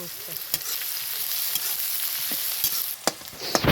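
Minced onion browns in a pan, a close, continuous frying sizzle punctuated by sharp scraping and tapping stirring strokes at irregular intervals.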